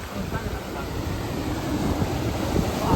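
Sea waves on the Konkan coast roll and wash in a continuous broad roar, steady and fairly loud, with faint voices in the background.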